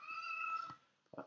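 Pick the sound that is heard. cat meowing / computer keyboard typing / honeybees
cat meowing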